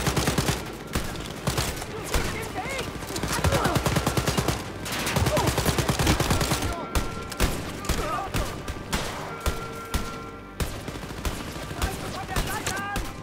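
Dense gunfire from an action video game, sustained bursts and volleys of shots, loud and continuous across the stretch, thinning into separate cracks toward the end, with game sounds mixed in and no clear talk.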